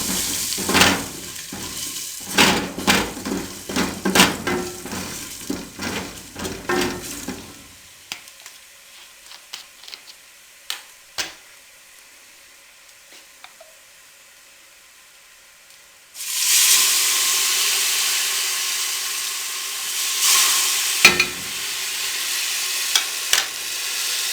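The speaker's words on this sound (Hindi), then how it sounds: "अब इसमें हम 2 चम्मच सोया सॉस के डाल देंगे।" Soy sauce hitting a pan of frying macaroni bursts into a loud, steady sizzle and hiss after a stretch of stirring clatter and near-quiet, continuing strongly to the end with no talk.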